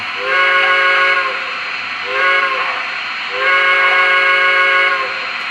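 The steam whistle of an MTH model PRR E6 Atlantic locomotive, No. 1645, blows three times, a long toot, a short one, then another long one, loud and close with a steady hum underneath.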